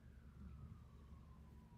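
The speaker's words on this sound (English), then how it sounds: "now there's fucking cop sirens" Police car sirens wail faintly in the distance outside, a single slowly falling tone over a low rumble of room and traffic noise.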